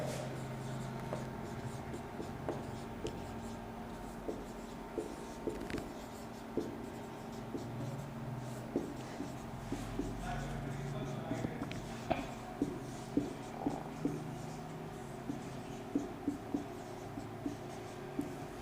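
Pen or chalk writing a heading during a geography lesson, a steady run of soft scratching strokes and taps continuing for many seconds under a noisy room background.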